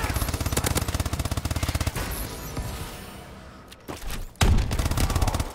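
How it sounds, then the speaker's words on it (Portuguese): Automatic gunfire in Call of Duty: Advanced Warfare on PS4, loud rapid bursts of repeated shots, then a short lull before another close, heavy burst. "Continuem atirando."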